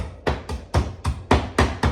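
A heavy bottle pounding pistachios on a surface, with seven sharp, evenly spaced thuds about a quarter second apart, close and loud, without any talking.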